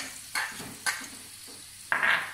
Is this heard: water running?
no